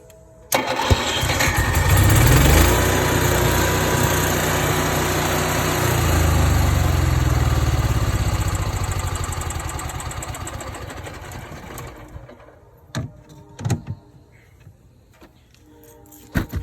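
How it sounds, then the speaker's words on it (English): An RV generator on a Sunseeker motorhome cranks and catches, then runs loud and close at a steady idle for several seconds before winding down and stopping, followed by a few clicks and knocks. "you could always try starting the generator from here"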